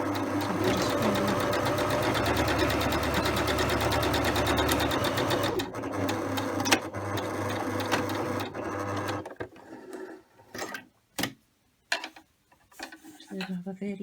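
A Husqvarna Emerald 118 sewing machine stitches a 15mm seam, first backwards and then forwards, with a steady loud mechanical whir for about five seconds. It then drops to quieter, intermittent short bursts and clicks.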